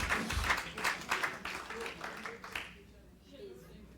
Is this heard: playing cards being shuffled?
no